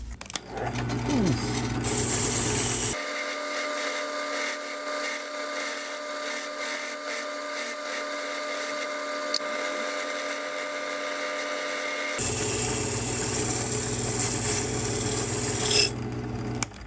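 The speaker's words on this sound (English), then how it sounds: "so I'm just going to give this a quick little scrape. And let's run over here and do a quick brush off of this guy." A Schlage D Series lock is scraped and brushed off, producing close, loud buzzing and grinding from a rotary tool with steady rasping, a tonal motor whine in the middle stretch and rougher scraping before and after.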